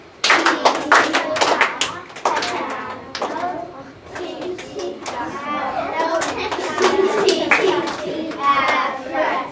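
Music students clap out a rhythm while reading notation, sharp hand claps in uneven clusters alongside spoken counting and a teacher's voice, close and fairly loud, with talking running through most of it.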